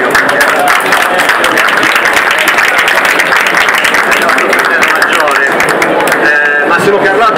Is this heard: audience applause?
yes